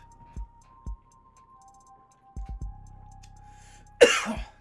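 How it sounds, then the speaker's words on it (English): A few soft thumps and a faint steady tone, then one sharp, close cough and throat clearing near the end. "I can't clear my throat to save my fucking life"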